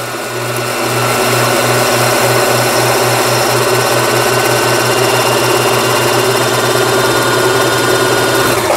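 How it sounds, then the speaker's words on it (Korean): A Brother 1430 sewing machine runs fast while winding thread onto its bobbin, a loud, steady motor whir with a rapid rhythmic pulsing hum that continues evenly throughout. "지금 이제 북실을 감고 있는 영상이 되겠습니다"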